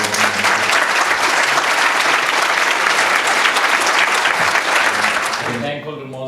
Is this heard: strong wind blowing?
no